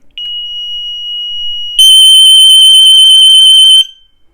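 An ADT DSC Impassa security system sounds a steady high-pitched electronic tone, then jumps to a much louder, harsher piercing test alarm blare for about two seconds before stopping.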